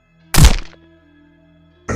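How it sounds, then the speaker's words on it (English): A heavy body hits the ground with a single loud, close thud, a short decaying rumble trailing after it, then another impact sound starts at the very end, all against a low hum and no talk. "the stick figure dropped me to the ground with an almighty thud"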